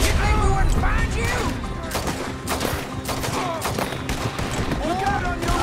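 Gunfire in a Red Dead Redemption 2 shootout, a dense volley of loud cracking shots fired in rapid, irregular bursts, with voices talking over the shooting throughout.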